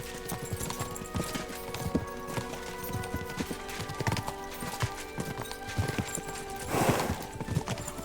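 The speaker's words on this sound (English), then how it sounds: "We should spur the horses on." Horses gallop along a road in the medieval game Kingdom Come: Deliverance II, their hooves pounding in a steady, continuous clip-clop over a dense bed of ambient game sound.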